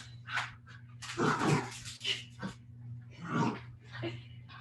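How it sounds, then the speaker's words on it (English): Dogs play growling in the background of a home workout, with several short bursts of low growls and grumbles spread across the stretch over a steady low hum. "The dogs will be play growling in the background as they play."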